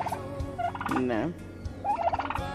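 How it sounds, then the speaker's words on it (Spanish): Turkeys on a home farm plot gobble in several loud, warbling bursts close by, with a brief pause between calls and rural background noise underneath. "Ahí se los mostras al nene cuáles son los jolotes, los chompipes."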